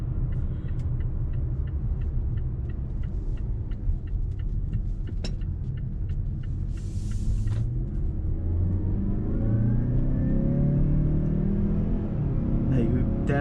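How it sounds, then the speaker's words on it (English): A 2019 Mazda CX-5 Grand Touring Reserve in sport mode accelerates along a road, a steady low engine rumble and road noise rising in pitch as speed builds, heard from inside the cabin throughout. "We'll flip it over into sport mode and we'll accelerate down this road here."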